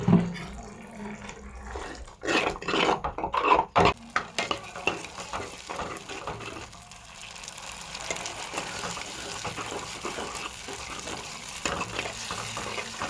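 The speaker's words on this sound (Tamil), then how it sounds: "லேசாக பபுள்ஸ் வர்ற அளவுக்கு சூடு ஏறினா போதும்." Green onion chutney heats in a pan with a close, steady sizzle and soft bubbling, broken early by a few stirring scrapes, then settling into a continuous low simmer.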